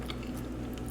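Close, soft bites and chewing of french fries at a meal of steak and eggs, a few quick moist crunches in under a second.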